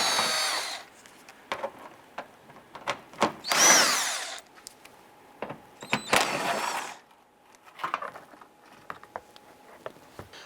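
A power drill backs out 8mm screws holding the fender flare on a 2002-2008 Dodge Ram 1500, sounding as several short, loud whirring bursts separated by quiet pauses and small clicks.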